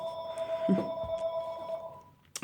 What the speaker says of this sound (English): another phone call. It's always like, boom, it's like a second I do a YouTube video, it's like ring, ring.